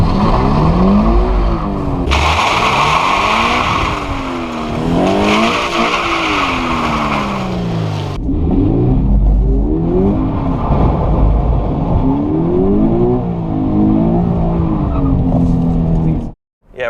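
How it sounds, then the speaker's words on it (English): A Toyota GT86 slides around, its engine loudly revving up and down in repeated sweeps with bursts of tyre skidding and squeal, close and continuous, ending abruptly. "We've found a little spot to do some sliding around. So let's do some sliding around."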